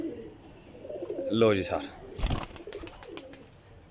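Pigeons coo among flying pigeons kept for sale, a soft cooing bird sound under a voice as he talks, with some rustling and a brief louder burst of noise midway.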